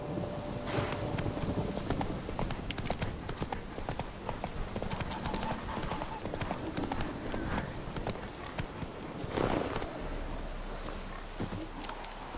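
Hooves of Roach, a horse in The Witcher video game, clip-clop steadily at a trot throughout, close and fairly loud, with faint rain-like patter and a brief snort near the end.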